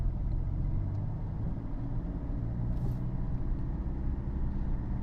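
A car engine drones steadily in second gear while driving slowly through traffic, a continuous low rumble heard from inside the cabin.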